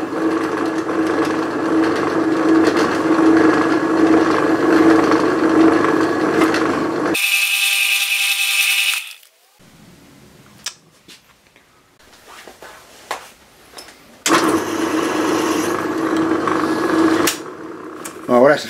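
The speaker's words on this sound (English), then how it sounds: "that's a 3/8 hole drilled." A hand drill boring a 3/8 inch hole, in a modification to the handle of an arbor press; a steady, loud whirring runs for several seconds, then stops, followed by a sharper burst, quiet handling noises and another stretch of drilling.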